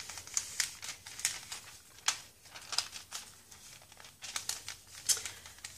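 A glassine paper bag being folded gently by hand, giving soft, quiet crinkles and crisp paper rustles in short bursts across the clip, close and faint with no talking.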